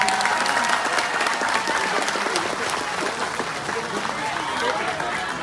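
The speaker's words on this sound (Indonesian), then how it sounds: "Tepuk tangan untuk BMI" Loud, dense applause from an audience at a live religious gathering, steady throughout, with crowd voices mixed in.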